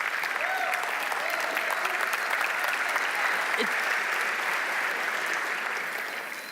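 School talent show audience applauding, a steady, moderately distant wash of many clapping hands lasting the whole stretch, tapering slightly at the end.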